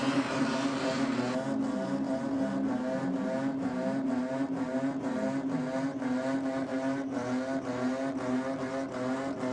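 A loud, high-revving Holden Commodore drag racing engine drones steadily with rapid pulsing bursts, close and continuous throughout, at a night drag and burnout event in Sydney.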